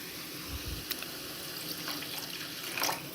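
Water is poured into a pan of mushrooms after salt and chilli powder, giving a faint, soft trickle and splash with a few low thumps, close by and without speech.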